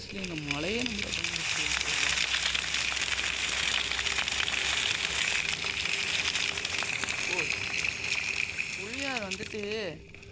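Heavy rain pours steadily as a loud, continuous hiss in a horror video game, filling the whole stretch, while a voice speaks with a rising and falling pitch at the start and again near the end.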